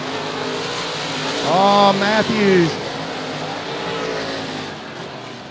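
UMP open wheel modified race cars run on a dirt track, their engines roaring loudly and steadily throughout, rising as cars pass near. A brief exclaimed remark cuts in over the engine noise.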